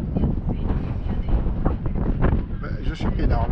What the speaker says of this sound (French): Alors ça souffle dans les rafales.